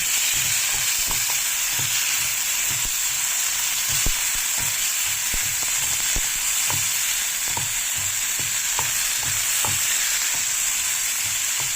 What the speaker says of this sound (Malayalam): ഇനി നമുക്ക് തക്കാളിയും കറിവേപ്പിലയും കൂടെ ചേർത്ത് കൊടുക്കാം. ഒരു മിനിറ്റ് സമയം നമുക്കിതൊന്ന് ഇളക്കി കൊടുക്കാം.